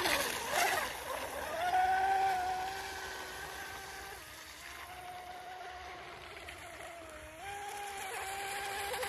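A radio-controlled model boat runs on a pond, its small motor whining at a steady, moderately distant pitch that rises and falls as the throttle changes through corners and straights.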